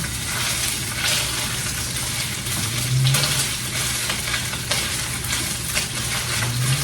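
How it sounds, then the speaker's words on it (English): Sweet Italian ground sausage sautéing in a hot pan, giving a continuous sizzle with occasional stirring scrapes, close and moderately loud, with no voices. "So first, we're gonna saute up some ground sausage."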